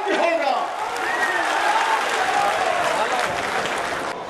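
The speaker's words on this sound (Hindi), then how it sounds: "एक बार जोरदार तालियों से।" A crowd applauds at a BJP political rally in Siddharthnagar district. The clapping is loud and continuous, mixed with voices calling out over the steady wash of hands.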